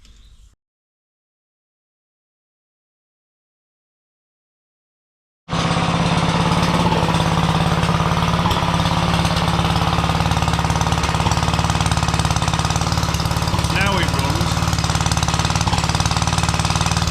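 A small J.A.P. engine running on the floor, loud and close with a rapid, steady knocking chatter starting abruptly after a few seconds of silence and continuing without pause.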